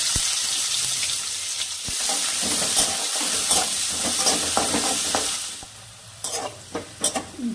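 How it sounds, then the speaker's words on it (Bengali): Carrot pieces fry lightly in oil in a kadai, a steady hiss of sizzling with a spatula scraping and stirring at intervals, the sizzle easing near the end as sharper stirring knocks stand out. "এবার গাজরের টুকরোগুলো হালকা ভেজে নেব।"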